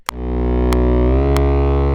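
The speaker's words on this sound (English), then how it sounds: "You just click reverb and it activates it right here for you." An instrument track in Studio One plays one sustained, buzzy harmonic note with reverb switched on, holding loud and steady for two seconds, with a few faint clicks at regular intervals.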